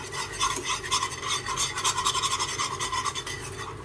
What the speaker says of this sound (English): Let's just stir it off. Stir it well.